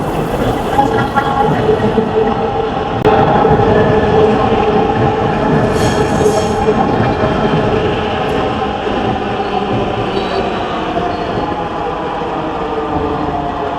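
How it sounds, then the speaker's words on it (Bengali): A Dhaka metro rail train pulling into a station platform makes a loud, steady rumble and whine with faint rail clatter, continuous and close throughout. "দেখতে প্ল্যাটফর্মে এন্ট্রি নিচ্ছে মেট্রো"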